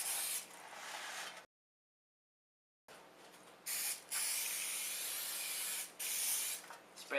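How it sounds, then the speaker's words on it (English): Cooking spray hisses from a can onto a cake pan in several short bursts with pauses between them, soft and close with no talking. "get yourself a pan and some spray so that it doesn't stick to the pan"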